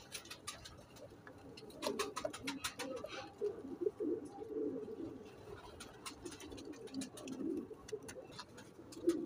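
Soft, steady cooing comes from a pair of pigeons, a Teddy female and a Rampuri male, as a low repeated murmur with faint ticking and rustling in the background.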